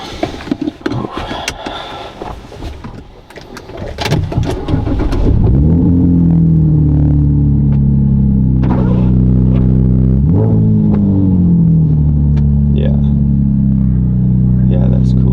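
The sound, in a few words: car engine starting and running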